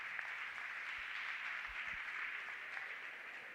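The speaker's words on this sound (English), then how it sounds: "Let's clap hands for the General." Faint, steady applause from the audience at a campus community safety forum for a police general, a continuous soft hiss of many hands with no clear individual claps.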